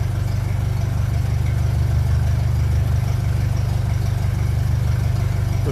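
Steady close idle of a 1957 Ferguson 35 TVO tractor engine, an even low-pitched throbbing beat held at constant speed with no revving, loud and alone.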